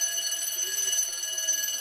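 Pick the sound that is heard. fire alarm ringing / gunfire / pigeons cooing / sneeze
fire alarm ringing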